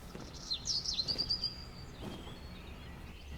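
Bird chirps in a Minecraft-style video game, a quick series of high tweets lasting about a second over faint background noise, then quiet.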